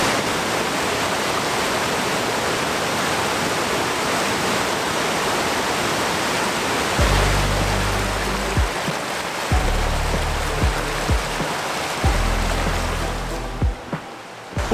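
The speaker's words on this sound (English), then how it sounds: "now we can just enjoy the waterfall." A waterfall in British Columbia roars steadily and loudly as a dense, unbroken wash of rushing water. Deep rumbling surges rise beneath it in the second half.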